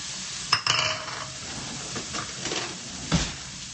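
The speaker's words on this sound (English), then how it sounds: "Now we're going to add some more oil in here, about 2 tablespoons worth, and then we're going to saute these onions." Onions sauteing in about two tablespoons of oil in a pan, a low sizzle with a few sharp clanks and scrapes of a utensil against the pan, close by and without talk.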